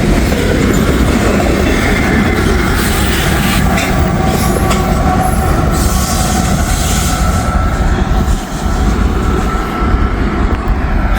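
A freight train with two sets of distributed power units rolls past close by, its loud, steady rumble and clattering wheels filling the whole stretch without a break, a faint squeal riding over the noise on a chilly morning.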